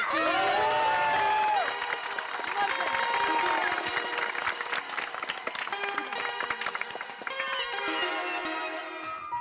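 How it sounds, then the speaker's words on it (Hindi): A crowd applauding and cheering for a journalist in a comedy-show scene, loud continuous clapping with whoops throughout, layered under bright music that plays over the whole scene. "एक बार हमारे माननीय पत्रकार पोपटलाल जी के लिए जोरदार तालियां हो जाए"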